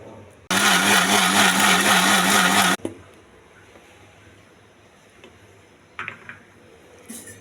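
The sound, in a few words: mixer grinder blending grapes for juice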